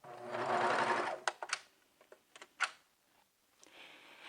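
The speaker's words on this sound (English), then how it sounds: "I'm going to go ahead and clip away the cording and just continue sewing down." A Baby Lock serger fitted with a cording foot runs in a short fast whir, then stops, followed by a few sharp clicks and taps, faint and close.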